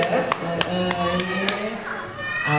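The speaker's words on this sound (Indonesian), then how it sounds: "Tepuk tangan dulu dong, bener jawabannya." Children clap their hands in a steady rhythm of sharp, evenly spaced claps at a storytelling session, fairly close and continuous for a couple of seconds, with voices in the background.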